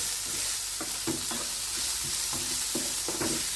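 Finely chopped ingredients for an egg pizza sauté in a pan with a steady, close sizzle, while a spoon scrapes and stirs in repeated strokes roughly every half second; no voices.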